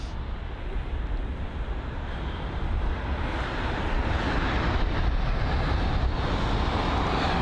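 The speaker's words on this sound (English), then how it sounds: "the Delta Airlines BCRF livery on board the 767-400ER" A Delta Airlines Boeing 767-400ER in special BCRF livery roars steadily at London Heathrow, a broad sustained jet rumble that slowly swells in loudness, with wind buffeting the microphone.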